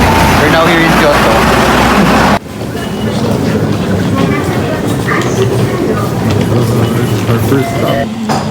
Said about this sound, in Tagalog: Almost mga 40 minutes na train ride.